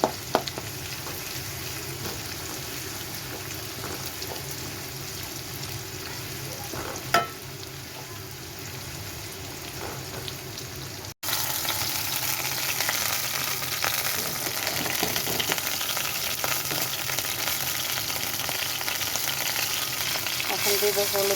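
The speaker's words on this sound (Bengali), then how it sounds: "একটু লাল লাল ভাজা ভাজা করতে হবে।" Onions frying in a pan until reddish-brown, stirred now and then, give a steady close sizzle with soft scraping that grows louder and denser partway through.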